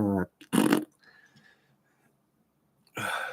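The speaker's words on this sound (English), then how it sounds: "Hey, by the way, listen to my fart" A short, loud fart bursts out after a brief voiced sound, followed by quiet breathy noise and then another loud spluttering burst near the end.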